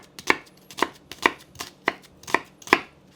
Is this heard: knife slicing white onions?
yes